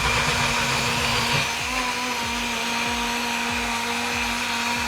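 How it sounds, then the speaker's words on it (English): A BlendJet 2 portable blender crushes apple and carrot, its motor whining steadily and loudly up close while the hard chunks knock against the jar in a regular thumping rhythm. "This motor is really powerful for its size because it can crush apple, carrot or any other hard substances."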